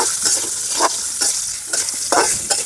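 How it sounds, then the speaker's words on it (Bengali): Onions frying in hot oil on a village clay stove for an okra fry, a continuous crackling sizzle broken by periodic stirring scrapes, close and loud with no talk. "পেঁয়াজ দিয়ে দিচ্ছি তেলের মধ্যে তেলটা আগে গরম করে নিয়েছি"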